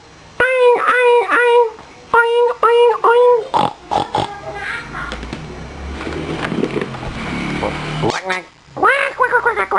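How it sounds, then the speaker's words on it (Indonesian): A duck quacks in quick bursts of three or four nasal calls, loud and close, separated by short pauses, with a brief spell of rustling noise between the call groups. "suara bebek"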